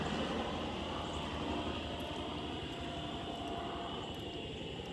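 A helicopter passes overhead, its steady low rotor thrum and engine drone filling the scene as a continuous rumble that holds loud and even, then eases slightly toward the end.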